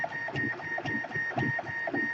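3D printer running a 40mm calibration cube at 200% speed, a steady whine with rapid rhythmic stepper-motor chirps and bursts as the head darts back and forth, close and fairly loud with no talk.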